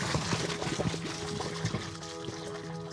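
Boiled potatoes are drained from the pot, water pouring and splashing steadily with small knocks and clatter, close and continuous for a few seconds.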